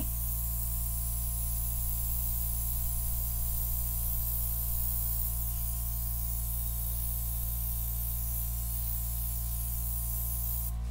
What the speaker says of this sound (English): I'm wondering if I can fix that with the airbrush.